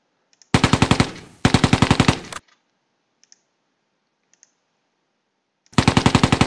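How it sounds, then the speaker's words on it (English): A heavy machine gun fires in a World War II tactical video game, in loud rapid bursts: two back-to-back bursts, a few faint clicks, then another burst starting near the end. "Heavy machine gun."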